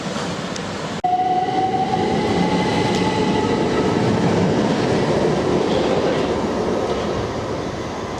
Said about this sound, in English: And there's the station